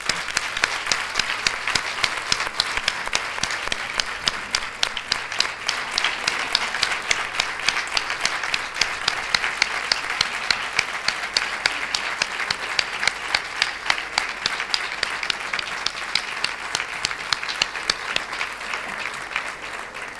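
Sustained applause from an audience at a castanets lecture before a 2017 guitar festival, a tribute to the late Ramón Luna; dense steady clapping holds for about twenty seconds with no voices over it.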